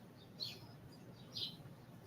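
A bird chirps outdoors, two short, high tweets about a second apart, faint over a quiet low background hum.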